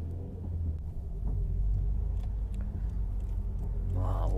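A race car pulling onto a circuit for track driving, its engine a steady, close, low droning rumble that holds level throughout with a slight lift in pitch near the end.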